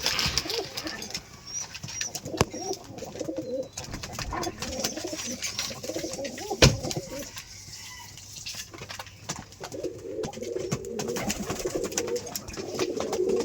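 Rajshahi Giribaz pigeons coo in repeated low rolling phrases nearby, with a sharp knock midway, a brief quieter gap, and a chicken-like cluck mixed into the background.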